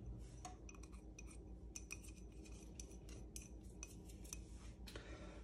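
A utensil scrapes and clinks against a pot as marinara sauce ingredients with onion powder, Italian seasoning and salt are stirred together. The sound is faint and continuous over a low background hum.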